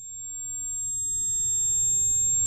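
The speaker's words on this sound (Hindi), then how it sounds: "इसे टिनाइटस बोलते हैं।" A simulated tinnitus tone rings as a thin, steady high-pitched whine throughout, alone over a faint low rumble that slowly grows louder.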